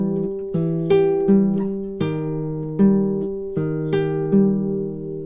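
An acoustic guitar plays the fingerpicked pattern from a song as a steady run of plucked notes, each ringing and decaying, close and alone.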